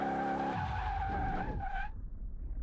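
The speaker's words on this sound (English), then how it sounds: "Makes you spin up your wheels a lot" A NASCAR stock car in a mechanic simulator game spins its wheels under a new custom gearbox, tires squealing in a loud sustained screech over engine roar before the squeal cuts off and the engine rumbles on alone.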